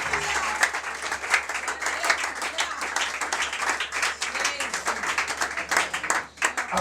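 A church congregation applauds and cheers a newly honoured minister at a large religious celebration, dense sustained clapping with crowd voices mixed in, loud and continuous before briefly dipping near the end.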